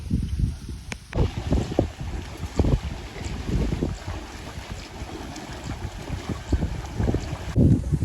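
Strong wind buffets the microphone in heavy gusts while rushing floodwater roars steadily underneath, loud and close, with no talking.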